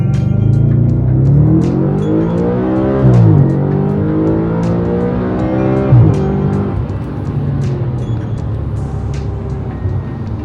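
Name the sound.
2013 Audi RS5 with K&N air intake accelerating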